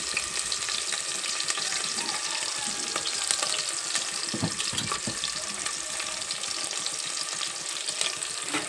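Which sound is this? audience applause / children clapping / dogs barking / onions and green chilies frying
onions and green chilies frying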